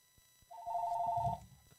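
A telephone rings once with a steady electronic tone lasting under a second, fairly faint against a quiet room.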